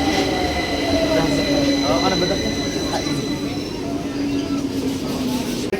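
A loud, steady rumble of an underground train at a platform, with droning hum, faint squealing tones and busy crowd noise throughout.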